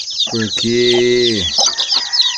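Free-range hen with a newly hatched chick clucking in a small backyard pen, a drawn-out cluck and call up close, with someone talking briefly over it.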